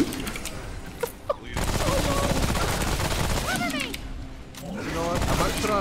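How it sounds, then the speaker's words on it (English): Bombs explode in the video game Remnant from the Ashes, loud sustained blasts and rattling gunfire-like bursts filling the mix, with players shouting over the chaos. "Where the bombs coming from? Bombs behind you!"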